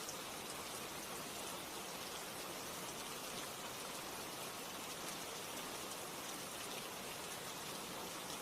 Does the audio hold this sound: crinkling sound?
no